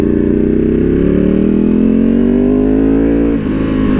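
A Ducati Panigale V2 fitted with a Vandemon full exhaust and dB killers holds a loud, steady, rising rev, with a brief dip near the end, close to the bike and with no talking.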